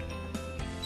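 A screwdriver drives screws to mount a curtain rod bracket, giving a brief run of close ratcheting clicks that ends in a sharper knock.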